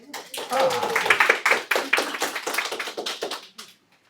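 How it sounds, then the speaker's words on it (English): Clapping from an audience after a health talk on women's hormones, a few seconds of fairly close, dense claps swelling then fading out, with some voices mixed in. "let's give Dr. Thor a round of applause here"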